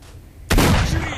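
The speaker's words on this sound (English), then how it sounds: "Are we shooting already?" Gunfire in the shooter game S.T.A.L.K.E.R.: Shadow of Chernobyl erupts suddenly as a loud, booming blast that stays dense and sustained, with a faint background murmur before it.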